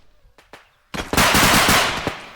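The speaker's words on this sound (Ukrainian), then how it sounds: "Це вже тупо стрільба на фарт" A couple of sharp shots ring out, then a loud burst of rapid automatic gunfire with the punchy, compressed sound of a realistic bodycam-style shooter video game.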